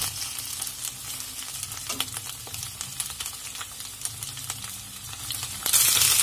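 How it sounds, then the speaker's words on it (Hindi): Pointed gourd (parval) fries in a pan with a steady close sizzle and scattered stirring clicks, ending in a sudden louder burst of hissing. "अब हम परवल को अच्छी तरह से फ्राई कर लेंगे।"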